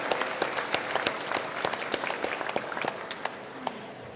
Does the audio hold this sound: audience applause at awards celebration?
yes